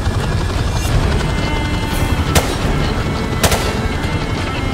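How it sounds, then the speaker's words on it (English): Gunfire and RPG blasts in the video game Call of Duty Remastered sound over a loud, dense battle roar, with sharp bangs standing out now and then. "Taking fire here. Roger that, we've got RPGs down there."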